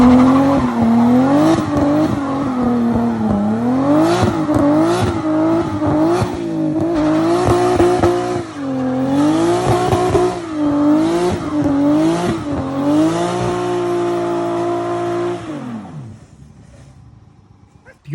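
A BMW 135i on the road, its exhaust droning low with rising and falling revs through repeated gear changes, loud and continuous before cutting off near the end.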